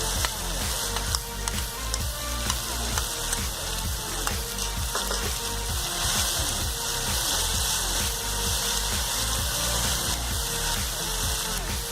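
Tomato and chopped capsicum frying in a pan for chilli paneer, a dense, continuous sizzle with repeated stirring scrapes and clatter, close and steady throughout.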